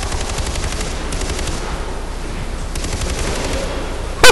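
Continuous rapid gunfire from a firefight against a tank in Far Cry 4, dense and loud throughout, with a sharp burst at the very end.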